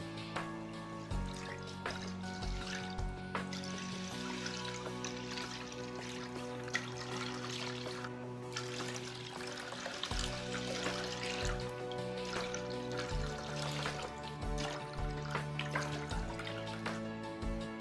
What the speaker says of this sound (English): Now we have to fill an 8-quart saute pan with 10 cups of water.